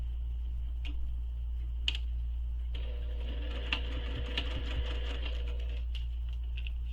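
A sewing machine stitches a backpack seam, a steady mechanical whir running for about three seconds in the middle with light ticking before and after, fairly quiet over a constant low hum.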